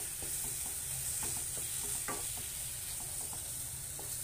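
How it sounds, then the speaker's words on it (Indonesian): Spoon or spatula stirring chicken curry in a pan with lime leaves, bay leaves and lemongrass over low heat, with steady close scraping strokes over a continuous sizzle and no talking. "lalu sekarang kita akan masukkan daun jeruk, daun salam, lalu daun serai. Kita aduk-aduk lagi."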